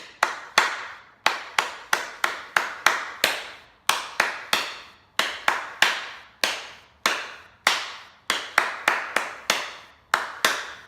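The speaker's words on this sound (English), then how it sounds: "So let's clap this out." Hands clap out a rhythm for a violin lesson on "Simple Gifts", sharp close claps in an uneven pattern of quick pairs and longer gaps, each ringing briefly in a quiet room.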